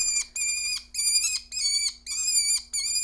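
A captive imprinted falcon gives a run of harsh, high screams in repeated long bursts with brief gaps, loud and close, with no talk over it.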